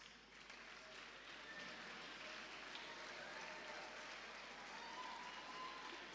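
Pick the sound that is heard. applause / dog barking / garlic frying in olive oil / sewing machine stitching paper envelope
applause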